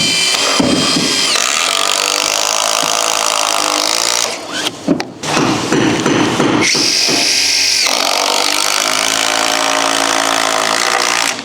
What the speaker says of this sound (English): I'm just going to finish screwing that roof